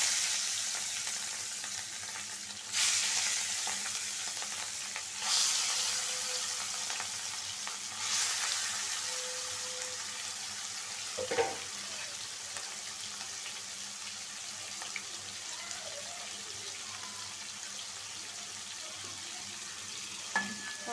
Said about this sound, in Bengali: এখন মাছটা ভাইজা নিব, হালকা ভাজবো, বেশি কড়া ভাজবো না।